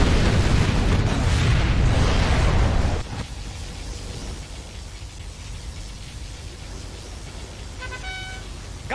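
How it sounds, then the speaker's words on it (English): Particle cannon blast from C&C Generals Zero Hour: a loud, roaring broadband rumble for about three seconds, then a sudden drop to a quieter hiss, with a brief tonal game chime near the end. "Warning, a particle cannon has been activated."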